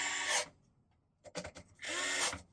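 A power screwdriver driving long threaded screws into the metal frame of a PlayStation 5, two short whirring bursts separated by a pause and a cluster of clicks, close and fairly quiet.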